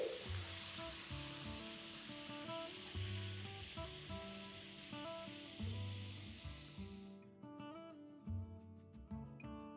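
Fries bubble in hot oil with a soft, fairly quiet sizzling hiss, heard beneath background music that carries through to the end.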